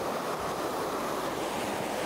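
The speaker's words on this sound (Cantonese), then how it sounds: "後邊呢度就有一個超級大瀑布" A large waterfall near the upper lakes of Plitvice in Croatia, a steady broadband roar of falling water with wind, heard from a short distance and unbroken by speech.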